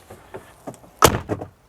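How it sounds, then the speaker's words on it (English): An Opel Astra H car door slams shut once with a sharp, loud thud and brief rattle, preceded by a few quieter handling clicks and followed by softer knocks. "Let me just close the other door"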